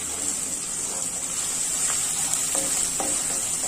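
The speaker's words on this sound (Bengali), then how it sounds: "এখন দিয়ে দিচ্ছি 1/2 চামচ মতো আদা রসুনের পেস্ট" Ginger garlic paste frying with potatoes in a pan, a steady hiss of sizzling oil with faint stirring scrapes, close and continuous without speech.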